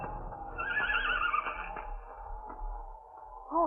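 A horse whinnies in a radio drama scene set on rocky ledges before a storm, a rising, quavering neigh lasting about a second, followed by low rumble and a short second call near the end.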